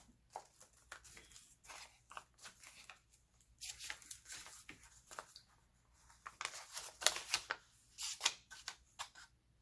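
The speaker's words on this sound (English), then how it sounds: "I'm going to cut open the sides." Scissors cut along the sides of a paper junk-mail envelope in a quiet room. Close, faint snips and crisp paper rustles come in irregular bursts, with some handling crinkles between them.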